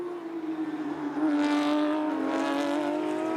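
Porsche Carrera Cup race cars racing at Indianapolis Motor Speedway, a steady loud engine drone that swells as cars close in and pass, holding near and strong to the end with no talk.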